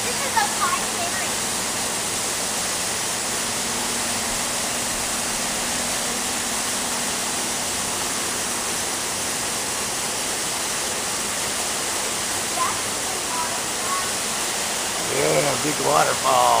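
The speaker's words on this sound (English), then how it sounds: "Yeah, big waterfall." A big waterfall in an indoor zoo rainforest exhibit roars steadily and loudly throughout, a dense unbroken rush of falling water, with faint voices briefly audible near the end.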